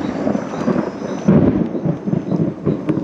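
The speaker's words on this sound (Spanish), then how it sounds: "llegar a escuchar esos truenos." Thunder rumbling in the Peruvian jungle, a continuous low roll with swelling peaks over about three seconds, fairly loud and alone with no voices.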